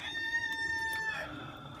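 Chickens in a backyard coop, a hen or rooster giving a sustained, tonal crowing call for about a second before it breaks off, close by over a steady low background hum, with no talk.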